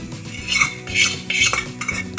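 A utensil stirs murmura chivda, a puffed rice snack, with spices and fried red chilli in a pan, making close, repeated scraping and rustling strokes with light metallic clinks and no talking.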